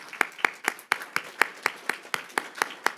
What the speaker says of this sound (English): so that everyone can give you a sense of applause and recognition